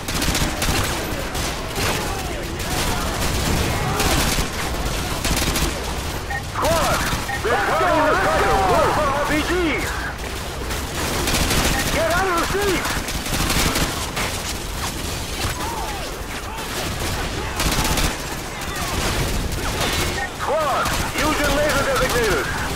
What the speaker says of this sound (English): Squad, put suppressing fire on that house!